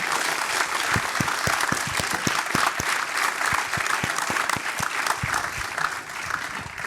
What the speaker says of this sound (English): I'd like to ask all of us to give the Honorable Minister Chiponda another round of applause